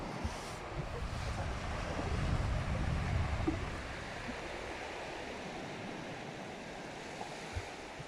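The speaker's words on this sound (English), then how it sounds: "What a fantastic beach." Surf rolling in at Mounda Beach on Kefalonia, a broad steady wash of waves swelling louder midway then easing, mixed with wind buffeting the microphone.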